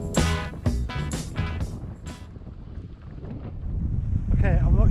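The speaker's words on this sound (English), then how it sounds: "I'm not sure you can hear me because it's very windy" Gusty wind buffeting a microphone during cross-country riding on the Iron Trunk Loop, rising into loud low roaring toward the end, with someone speaking over the first part.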